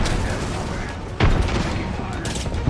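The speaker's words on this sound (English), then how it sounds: "Oh, I'm being sniped." A sniper shot cracks sharply once in the video game RAGNOK amid a busy game soundscape, with a voice talking in the background.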